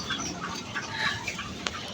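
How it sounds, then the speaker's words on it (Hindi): Chickens cluck and murmur inside a coop cage while being fed grain, a close, busy mix of soft bird calls with a brief sharp tap near the end. "बाबा ये दाना डाल रहे मुर्गियों को"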